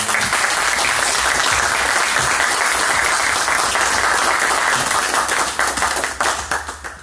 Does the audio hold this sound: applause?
yes